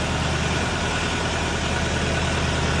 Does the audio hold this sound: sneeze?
no